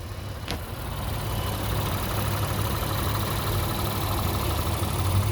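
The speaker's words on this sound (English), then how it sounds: "that engine is running smooth" A 2021 Honda Pilot Touring SUV engine idles steadily with a low, even rumble, close and continuous, after a brief sharp click at the start.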